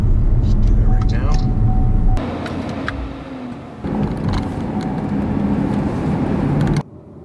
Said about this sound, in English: You can hear the vehicle just kind of shut down